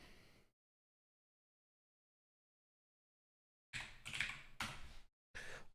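Keys tapped on a computer keyboard to enter a command, a short burst of close, crisp clicks in three quick clusters after a stretch of silence.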